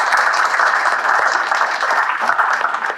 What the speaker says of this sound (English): a round of applause for these folks for coming in today and for the work